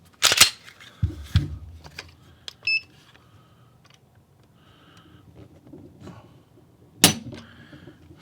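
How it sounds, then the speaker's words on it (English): Dry-fire trigger pulls on a pistol fitted with a Taran Tactical Grand Master connector kit: a handful of crisp, sharp clicks spaced seconds apart, with faint handling noises between them in a quiet room. "let's do a couple pulls here and see what this trigger weight comes out to be"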